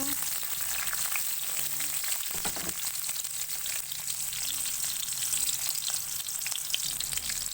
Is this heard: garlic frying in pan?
yes